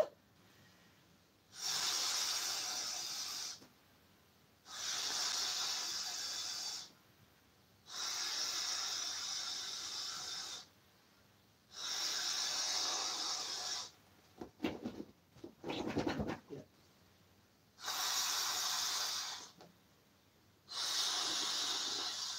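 An inflatable Earth beach ball fills with air in regular hissing bursts, about seven evenly spaced pulses separated by short quiet gaps, with a brief rattling scuffle midway.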